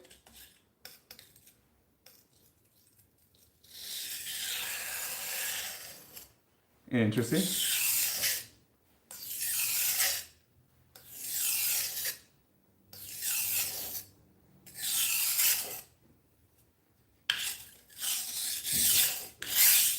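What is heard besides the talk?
budget knife blade swiped on a guided sharpener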